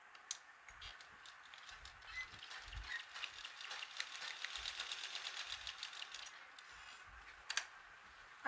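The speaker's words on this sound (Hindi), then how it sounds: "अब इन निशानों पे हमें सिलाई कर लेनी है।" A sewing machine runs a fast, even stitch across a cloth roti cover, with a soft mechanical whir and clatter building through the middle and a few sharper knocks near the end.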